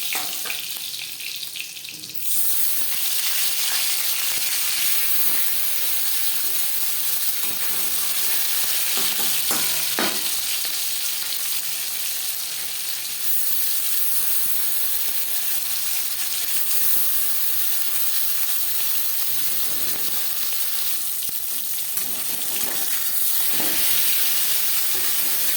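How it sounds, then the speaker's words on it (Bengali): Fish sizzles in hot oil in a pan, giving a steady, bright frying hiss that holds close and loud throughout, with a brief softer dip near the start. "পরের মাছ একইভাবে ভেজে নেব।"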